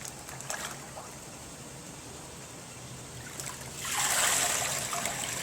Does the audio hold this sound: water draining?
yes